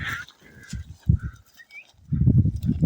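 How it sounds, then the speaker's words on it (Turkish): Cattle on open village hillside land, heard as several low, rough bursts in an uneven rhythm at moderate distance, with faint bird chirps above and a longer, fuller stretch of lowing near the end. "Bayağı güzel ineklerimiz varmış ha."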